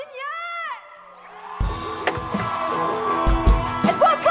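Live show crowd mic picking up cheering and whoops, a loud bright shout rising and falling before a busy wash of crowd noise with mixed voices.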